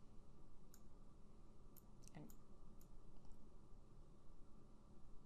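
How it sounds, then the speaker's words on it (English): A computer mouse clicking while keyframes are edited in an animation program, several small sharp clicks scattered over a few seconds, faint above a steady background hiss. "I'm taking this, clicking on the keyframe"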